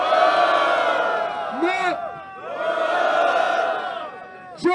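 A crowd at a Brazilian freestyle rap battle, Batalha do Tanque, cheers and shouts loudly in two long surging waves, and a brief voice cuts in at the end.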